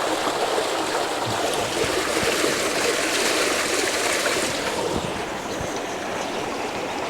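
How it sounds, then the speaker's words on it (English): Mountain stream water flowing beside a road near Mount Fuji in Japan, a steady, loud broadband rush that holds constant throughout with no voices. "filming the water that's coming from the mountains"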